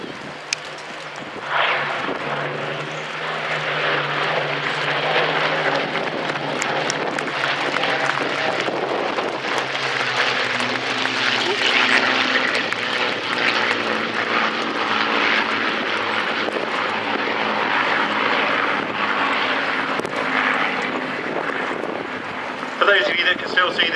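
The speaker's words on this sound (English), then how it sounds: "Royal Air Force Battle of Britain Memorial flights. Lancaster flanked by 2 baby Spitfires." A Lancaster bomber flanked by two Spitfires from the Royal Air Force Battle of Britain Memorial Flight passes overhead at an air show, a loud, sustained piston-engine roar that holds for the whole stretch, with someone commentating over it.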